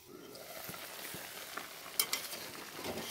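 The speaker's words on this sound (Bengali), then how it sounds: "আমি একদম মশলার সাথে মূলাগুলো কষিয়ে তারপর রান্না করি" Radishes fry and get stirred with spices in a pan in a village-style radish and mixed-fish curry, giving a steady close sizzle with soft scraping stirs and a few sharper clinks of the utensil against the pan.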